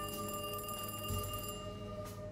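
A telephone rings inside a video game, a thin electronic trill layered over steady tonal background music, moderately loud with no voices.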